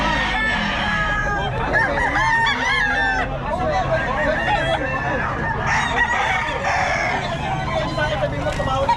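Sweater Kelso gamefowl roosters crow loudly and repeatedly at a busy evening market stall, their overlapping calls and clucks close by and layered over steady crowd chatter and background voices.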